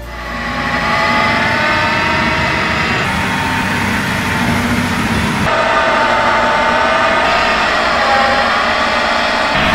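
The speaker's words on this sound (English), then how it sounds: "The tractor can easily master the power harrow" A tractor pulls a power harrow across arable farmland in the Netherlands, its engine droning loud and steady nearby with a constant mechanical whine and rumble that shifts slightly in pitch as it works.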